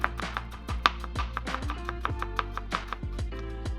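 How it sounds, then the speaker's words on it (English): Knife cutting stacked ginger slices into strips on a cutting board, a steady run of sharp, close chopping taps at a brisk, even rhythm with faint background tone. "Then I'm gonna stack the slices up and cut them into strips."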